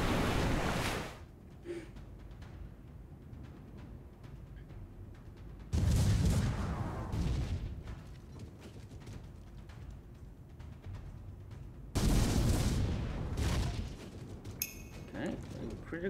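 Ship cannons fire in Port Royale 4, three heavy booms spaced several seconds apart, each rolling out over an ambient background of waves and wind.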